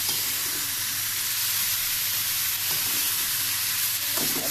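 Radish and papaya fry in a pan for a spinach and red lentil dal, giving a steady, even sizzle with a few faint stirring clinks near the end.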